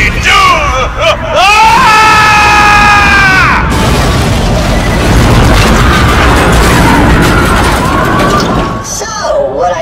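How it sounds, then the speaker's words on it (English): Bursts of explosive booms from a fireworks display in the video game Borderlands: The Pre-Sequel, set in an arena. They are loud and dense and continue under energetic, shouting game voices and crowd-like noise. "Then I give you the Totally Doomed fireworks now."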